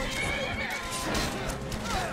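A horse in the Skyrim video game whinnies loudly and close, with hoof clip-clops and the clatter of combat around it.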